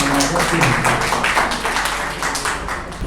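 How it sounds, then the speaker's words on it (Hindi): Applause from an audience at a university symposium on Hindi Journalism Day, welcoming a department head: dense, steady clapping filling the whole clip with a faint voice underneath. "जोरदार तालियों से स्वागत करें"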